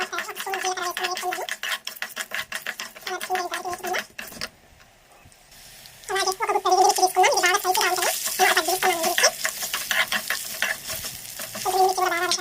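Coriander seeds and chana dal fry in a little oil in a pan on the stove, with bursts of scraping and stirring against the metal over a soft sizzle, pausing briefly midway before resuming louder.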